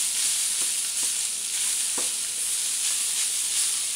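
Tofu scramble browns in a frying pan with a continuous bright sizzle, broken by a few soft taps as it is occasionally stirred.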